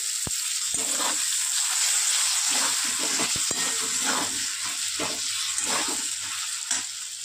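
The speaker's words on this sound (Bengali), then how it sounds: "টমেটোটা, এর সঙ্গেই দিয়ে দেবো আমি গুঁড়ো মশলাগুলো দিয়ে এবারে একটু কষিয়ে নেব।" Chopped tomato and ground spices sautéing in a pan for a Bengali banana-flower and prawn ghonto, a steady close sizzle and hiss with occasional stirring clicks and scrapes throughout.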